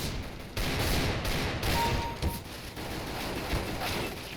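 Gunfire in CS:GO during a gun-game match: dense bursts of rifle shots and a rattling fusillade fill the whole stretch, loud and close, with brief louder cracks and no speech.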